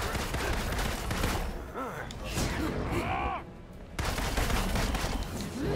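Gunfire in the Marvel's Avengers video game, rapid bursts of shots mixed with sweeping whooshes and effects, pausing briefly before resuming loudly, with voices talking in between.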